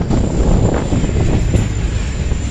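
Passenger train running from Siliguri to Hasimara, heard from on board: a steady, loud rumbling roar of wheels and carriage noise, continuous and without talk.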